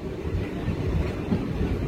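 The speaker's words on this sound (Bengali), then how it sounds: "আর এই যে আমাদের ট্রেন যাচ্ছে, এটা যাবে নলহাটি" The Azimganj–Howrah Ganadevta Express rumbles along the rails with a steady low roar and rhythmic wheel noise, heard close up and continuous with some wind buffeting.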